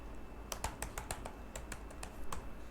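Keys clatter on a computer keyboard as JavaScript code is typed, with quick irregular clusters of sharp clicks over a faint steady background hum.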